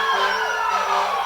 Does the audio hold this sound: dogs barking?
no